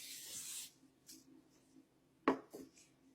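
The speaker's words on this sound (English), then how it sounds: "I'm gonna spray this right here." A short hiss of cooking spray from an aerosol can, close and quiet, followed by a couple of light knocks and brief rustling.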